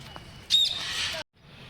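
A parrot in Indira Gandhi Park, Rourkela, gives one harsh squawk of under a second, fairly close, over a quiet outdoor background. A person speaks in the clip.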